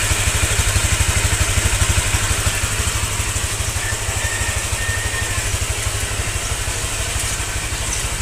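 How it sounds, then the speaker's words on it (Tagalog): A Honda Click motorcycle idles to warm up in the morning, its engine putting out a steady, even stream of rapid low pulses throughout, close and fairly loud with no talking. "So yun, pinapainit po yung motor natin. Mga 5 minutes po yan pinapainit bago ako lumarga."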